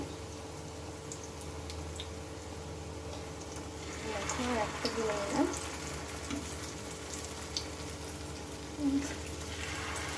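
Bitter gourd snacks fry in hot oil, giving a soft, continuous sizzle with occasional bubbling pops that grow busier midway, under someone speaking throughout.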